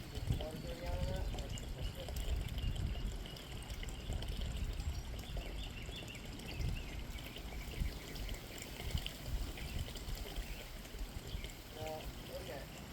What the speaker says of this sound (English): And water going out of that.